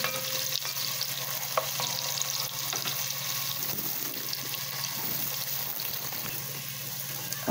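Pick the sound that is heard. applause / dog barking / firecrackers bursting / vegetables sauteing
vegetables sauteing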